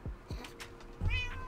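A cat meows up close, a couple of short calls followed by a longer, louder meow, with nothing else around it.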